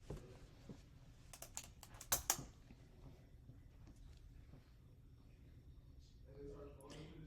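Keys tapped on a computer keyboard to enter a cutting machine's IP address, a short quiet burst of clicks under a voice in a quiet room.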